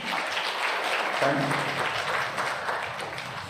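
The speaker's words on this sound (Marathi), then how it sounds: "त्याच्यासाठी पण टाळ्यांचा गजर करायला हरकत नाही" An audience at a lecture on Mata Ramai's life of struggle breaks into a burst of clapping that swells and then thins out, with a voice speaking briefly over it.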